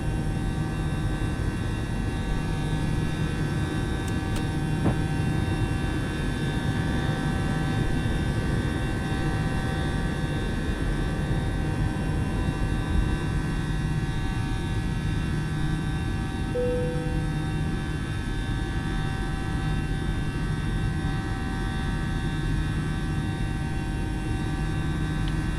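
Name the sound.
Airbus A318 taking off and climbing in MSFS2020 video game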